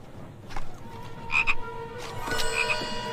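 A magic chocolate frog in a Harry Potter film scene croaks as a movie sound effect, giving three or four resonant, ringing croaks spread over a few seconds against faint background hum.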